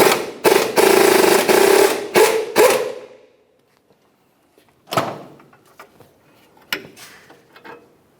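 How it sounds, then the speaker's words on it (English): A 17mm wrench ratchets off the inboard nut of a front sway bar link on a 2004-2005 Nissan Titan, giving a loud burst of rapid metallic clicks, then a pause and a few scattered clanks and taps. "Use your 19mm wrench, hold that stud still, continue removing the inboard nut with your 17mm."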